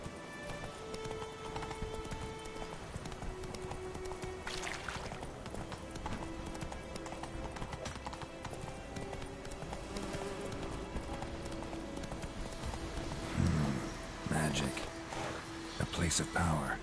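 Roach, a horse in The Witcher game, gallops with steady rhythmic clip-clop hoofbeats at a close, even level, with brief louder bursts near the end.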